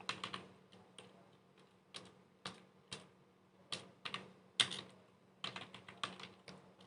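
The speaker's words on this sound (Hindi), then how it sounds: "तो मैं यहाँ पे टाइप करता हूँ" Typing on a computer keyboard while writing an online test in Google Forms: irregular bursts of crisp key clicks, close and clear, with short pauses between runs of keystrokes and no talking.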